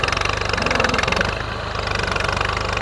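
A tractor engine idling while parked under a tree on a fish farm, a steady close mechanical chugging with a regular knocking rhythm throughout and no talk.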